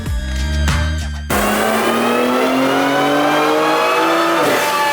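A BMW car engine revs hard and high on a dyno, holding a loud sustained roar with rising pitch, then easing slightly near the end.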